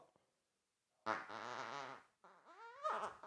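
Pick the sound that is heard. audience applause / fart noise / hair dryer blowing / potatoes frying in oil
fart noise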